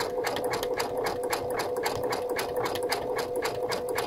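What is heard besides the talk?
Brother sewing machine satin stitching applique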